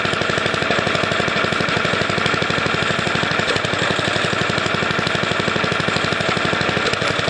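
A small go-kart engine runs steadily with its freshly cleaned carburetor, choke wide open in the run position, a loud, continuous rapid-fire chugging that stays constant and close throughout with no voices.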